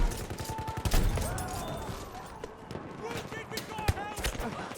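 Rapid battlefield gunfire in the video game Battlefield 1, with heavy shotgun blasts and distant shots cracking irregularly amid chaotic combat noise, a speaking voice mixed in.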